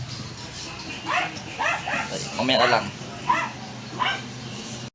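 Several dogs bark and yip in short bursts nearby during bathing, with a person speaking briefly among the barks.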